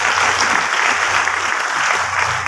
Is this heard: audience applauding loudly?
yes